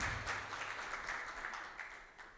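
Audience applause at an IPv6 inter-regional summit, a steady wash of clapping that continues evenly at moderate level throughout.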